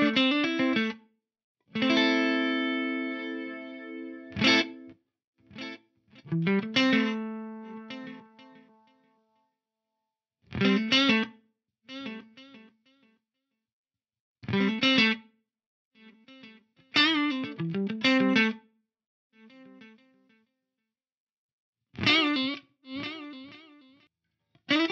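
Electric guitar played through a BOSS DD-200 delay pedal in ducking mode, sparse plucked notes and short phrases separated by silent gaps, the repeats staying low while playing and swelling briefly after.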